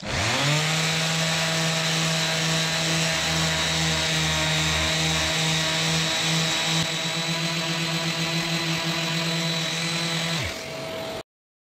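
A power sander works across the top of a polyester laminate surface: a loud, steady motor whine with a grinding buzz held for about ten seconds before it winds down.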